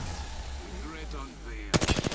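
Video game gunfire: after a low rumbling background, a fast burst of rapid automatic shots rings out loudly over the last half second.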